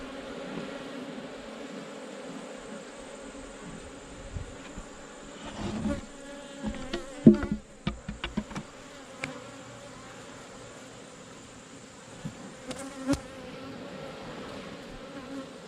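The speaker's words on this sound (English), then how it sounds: "A lot of bees here." Honey bees buzz steadily around an open beehive during a honey check, a close, continuous drone with scattered bumps and handling knocks.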